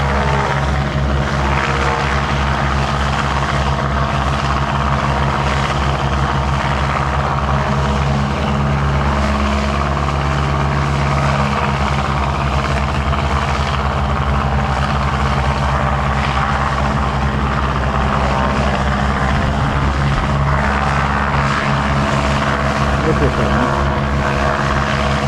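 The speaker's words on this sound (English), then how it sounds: "Getting some main runway takeoff experience." An aircraft powering up for takeoff on an airport's main runway, a loud, sustained engine roar with a deep low drone and shifting tonal whine that fills the whole stretch.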